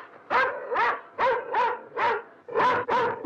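A dog barks in a quick run of about eight loud, close barks, evenly spaced and clear against a quiet background.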